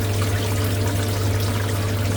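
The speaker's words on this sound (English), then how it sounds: "we're going to pour this hot water into this area here" Hot water pours steadily into the drain area of a flooding ice machine, a continuous close trickling and splashing with a low hum underneath and no voices.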